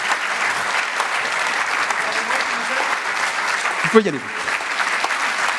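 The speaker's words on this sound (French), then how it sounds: "je vous propose d'applaudir l'équipe d'Émilie Hébrard" An audience at an innovation awards ceremony claps steadily for a winning team, dense continuous applause with a brief spoken remark partway through.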